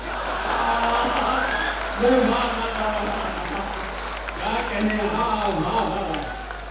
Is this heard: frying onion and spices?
no